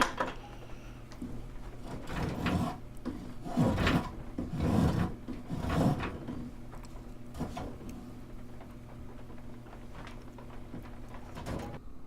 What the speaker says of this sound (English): and then onto the draw knife